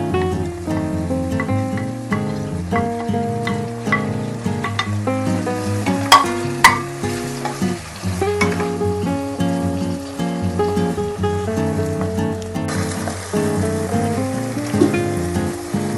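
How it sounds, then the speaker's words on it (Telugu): A utensil scrapes and stirs tomatoes, green chillies and onions in a hot pan, with steady sizzling and frying under background music. "ఇలా టమాటో పచ్చిమిర్చి ఆనియన్ మెత్తబడేంత వరకు కలుపుకోవాలి"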